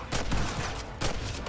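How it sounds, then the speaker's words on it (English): Gatling gun fire in Red Dead Redemption, a rapid, dense burst of loud repeating shots with a short pause before another volley. "Oh, I use a Gatling gun."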